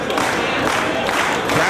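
A Ring of Honor wrestling crowd cheers and claps loudly and steadily as both wrestlers struggle to their feet, with a commentator talking over the noise.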